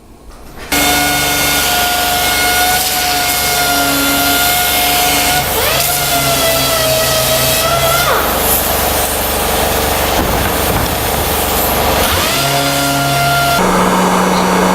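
A handheld wood router with a half- or quarter-inch roundover bit cuts along a wooden edge while building a Murphy bed, giving a loud, continuous high whine with shifting pitch and a harsh broadband rasp throughout.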